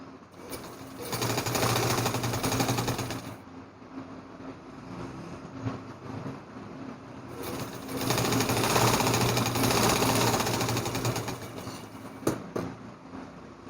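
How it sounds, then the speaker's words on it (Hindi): An electric sewing machine stitches the shoulder seam of a net baby frock in two loud, steady runs of rapid whirring needle strokes, separated by a short pause. "अब हम इसके दूसरे शोल्डर को भी इसी तरह से सिलाई लगा लेंगे।"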